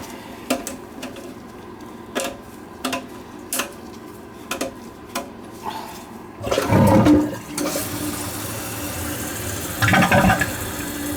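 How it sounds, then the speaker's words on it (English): Kohler toilet that leaks water when flushed: a few sharp clicks and taps from the tank mechanism, then a short rushing flush around the middle and another brief gush of water near the end. "Don't take much water to flush this thing"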